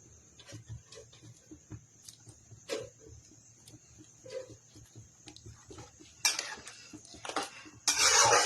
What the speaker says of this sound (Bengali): এবার এখানে আমি সব পনিরগুলো ঢেলে দিব